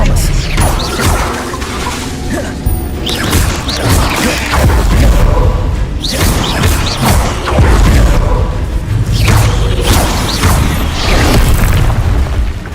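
Expelliarmus and other spells cast in Hogwarts Legacy combat: repeated loud booms, pops and crashing impacts over continuous game noise, with voice-like sounds mixed in.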